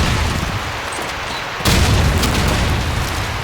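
Grenades detonate in a Counter-Strike match: a low rumbling backdrop gives way to one loud, sudden blast that leaves a sustained roar of noise, with no voices over it.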